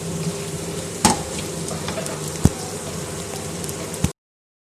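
Grated coconut and dry fruits cooking in a pan for makhadi halwa give a steady, close sizzle and crackle, broken by a few sharp utensil knocks. No one speaks.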